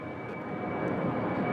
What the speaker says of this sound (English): So there goes JetBlue.